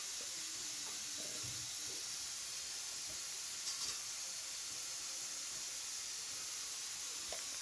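Potato pieces frying in a pan for curry, a faint, even hiss of oil that stays steady throughout, with a few soft stirring touches.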